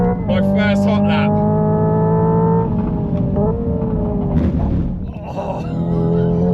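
Hyundai IONIQ 5 N electric car on a hot lap: loud, close droning engine-like tones that hold and then step in pitch like revs and gear shifts, with brief voice exclamations over the top.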